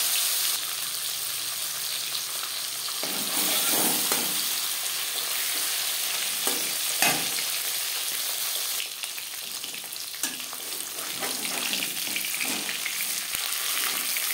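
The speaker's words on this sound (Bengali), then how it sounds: "ভাজা হয়ে গেছে, অপর পাশ উল্টে দেবো।" Khoira fish frying in oil in a pan for a fish-and-aubergine curry, a steady close sizzle and crackle running throughout with occasional soft stirring or scraping sounds and no talk.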